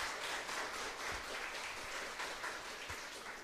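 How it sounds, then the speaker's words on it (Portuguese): Steady, dense applause from a church audience, continuous and fairly distant, filling the whole moment without any talking. "Pode aplaudir. Pode aplaudir."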